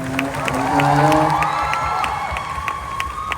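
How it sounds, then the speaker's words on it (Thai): A concert crowd cheers and shouts loudly, with high excited voices and scattered whoops over a steady roar that swells and then eases slightly, with clapping mixed faintly underneath. "ขอเสียงปรบมือให้กับพวกเราทั้ง 4 คน"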